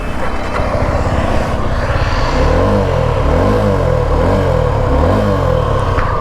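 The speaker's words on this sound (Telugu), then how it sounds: "ఒక్క సెకండ్ అయితే మీకు ఎగ్జాస్ట్ సౌండ్ అయితే చూపిస్తాను." A Suzuki V-Strom SX 250 motorcycle running, its exhaust giving a loud, close, steady engine rumble that swells with a few throttle blips partway through.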